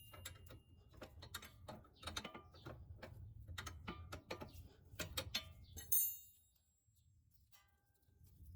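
A wrench turning a tight sway bar end link nut on a vehicle's front suspension, heard as a series of close metallic clicks and clanks, a sharp ringing clang near the end, then near quiet.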